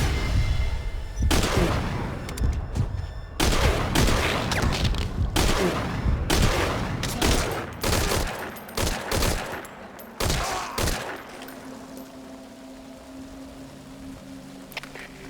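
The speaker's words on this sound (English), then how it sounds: "We've got unidentified gunfire. Location unknown." Metal Gear Solid 5 Ground Zeroes gunfire: repeated loud bursts of automatic fire and sharp shots over a rumbling background, fading to quieter ambience near the end.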